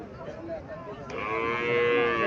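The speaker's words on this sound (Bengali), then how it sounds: "এখানে আরো একটা গাভি দেখা যাচ্ছে।" A Sahiwal cross dairy cow moos once, a drawn-out, rising low call close by that swells toward the end, with faint background noise and no talk.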